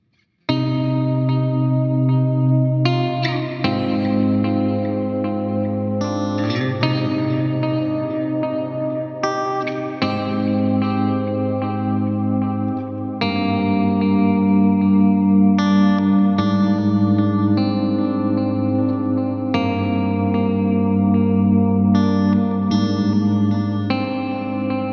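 Fingerstyle electric guitar runs through a Line 6 Helix metal preset with delay, rolling arpeggiated chord patterns washed in echo and chorus that shift every few seconds, sustained and close with no voice.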